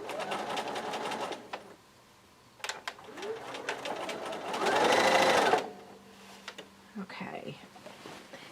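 A sewing machine stitches quilt seams for a jelly roll race quilt in short close bursts, with quiet talking in between and one longer, louder run of stitching.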